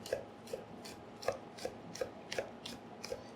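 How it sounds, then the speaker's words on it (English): A knife chops food on a cutting board while pork tonkatsu is being prepared, giving about eight evenly spaced, crisp, close taps with no voices. "and chop this up"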